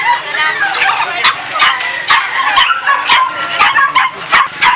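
Dogs at an animal market bark, yip and whimper in quick, repeated bursts close by, while people talk over the commotion.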